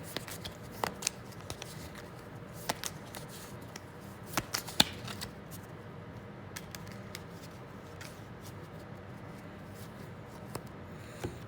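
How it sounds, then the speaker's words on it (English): Playing cards shuffled by hand for a board game, with a soft steady riffle and flutter and occasional sharper snaps and taps, close and fairly quiet, with no voices. "Okay, I got to shuffle for red's turn,"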